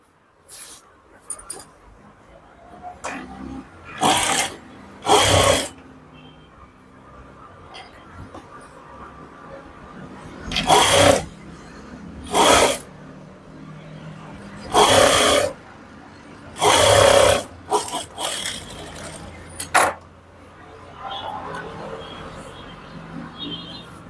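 A sewing machine stitches a boutique-style blouse in repeated short bursts of whirring, several seconds each, with quieter moments and some voice between runs.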